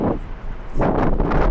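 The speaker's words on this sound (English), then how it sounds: "Pretty windy, pretty gusty today." Strong gusts of wind buffet the microphone at LAX airport, producing loud low rumbling bursts that swell, briefly ease, then return harder.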